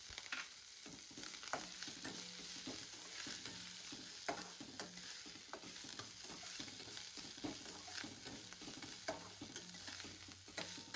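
Sesame seeds and spices crackle and sizzle in hot oil in a pan, a dense continuous frying hiss broken by sharp popping bursts and occasional stirring scrapes.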